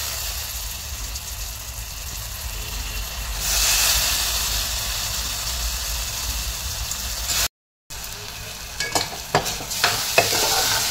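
Soaked whole masoor lentils stirred and sautéed in oil with onion, tomato and garlic: a continuous sizzle under scraping spoon strokes, with a brief dropout and sharper clicks of stirring near the end.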